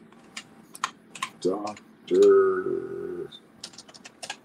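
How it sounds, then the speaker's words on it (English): Scattered, irregular keyboard key clicks from typing with one hand, broken up by people talking over the middle of the stretch. "I hate typing with one hand."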